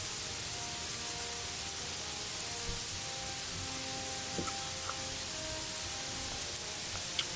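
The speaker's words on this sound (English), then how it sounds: "Oh, it's raining." Steady rain falling in the video game Gothic 3, a soft continuous hiss with faint scattered drop ticks and a few brief clicks, with no talk over it.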